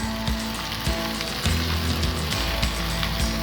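Bell peppers (shimla mirch) are added to frying potatoes in a hot pan, giving a loud, steady sizzle with crackling pops and scraping stir noises throughout.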